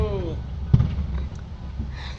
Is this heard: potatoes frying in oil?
no